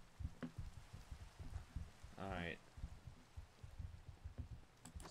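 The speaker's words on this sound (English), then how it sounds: "So, it's a rainy day." Rain in Pixelmon, the Minecraft mod, patters steadily in the background at low level, with a brief voice cutting in partway through.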